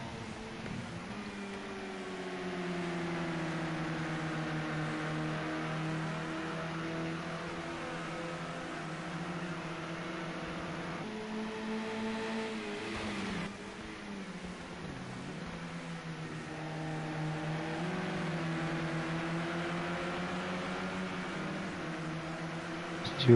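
Renault Megane touring cars race at Silverstone National, engines droning and rising through gear changes with pitch sweeping past, steady and fairly faint, no speech.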